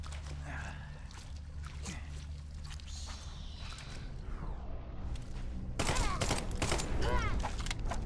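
Gunfire in The Sinking City, a horror video game, crackling as dense bursts that grow louder and heavier in the last couple of seconds over a low, steady background rumble.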